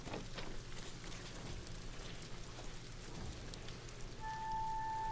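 Rain in the video game Ghost of Tsushima, a constant hiss of rainfall pattering on surfaces, steady and moderately loud with occasional low rumbles. A thin tone enters near the end.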